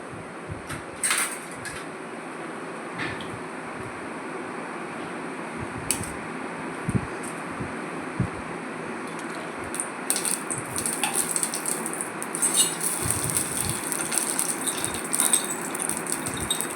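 Whole black mustard seeds and dried red chillies tempering in hot mustard oil, a soft hiss that grows into a steady, bright sizzle with scattered crackles over the final seconds, close and moderately loud.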